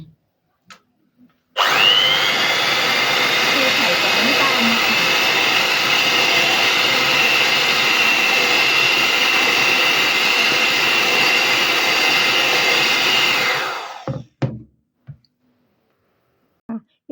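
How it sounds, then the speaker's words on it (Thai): A handheld electric egg beater whisks eggs for a Finnish mokkapala coffee cake, running as a loud, steady whir for about twelve seconds before switching off, with a few clicks around it. "แล้วก็ขั้นตอนแรกยังก็จะ ตีไข่ก่อนนะคะ ไม่ได้ใช้เครื่องตีไข่นานแล้วนะคะ"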